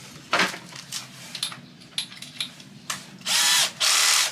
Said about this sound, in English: So you have a drill bit